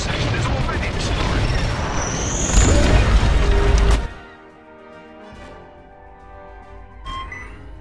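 Missiles fire and explode in the space combat game Star Wars Squadrons, with loud booming blasts and rumbling weapon fire during the first half. The sound then drops to quieter engine hum and a short electronic blip.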